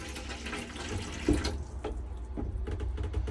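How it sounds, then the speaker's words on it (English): A tap runs into the drainless sink of a Vantage Sol motorhome, a close steady splashing stream that cuts off partway, leaving softer trickles and drips. "You will notice that the tap is exactly the same, but you don't have a drain hole in the actual sink itself."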